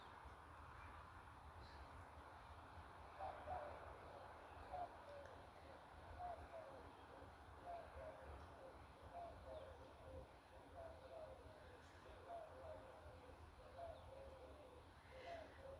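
Birds call repeatedly outdoors in the background, short paired cooing or chirping notes recurring every second or so, faint and steady against a low ambient hum, with a voice talking over them.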